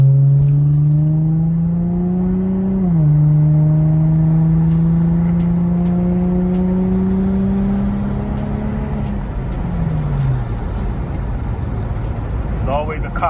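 Infiniti G35 car driving down a long street, engine note rising through gears with a clear drop at a shift, then holding steady before easing off, close and prominent with a voice talking over it.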